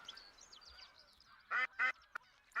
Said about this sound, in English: holding patterns of ducks, because they're not spooked